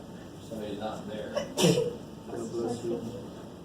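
A single sneeze bursts out among people talking in a lecture classroom, a brief sharp broadband hit midway through the conversation.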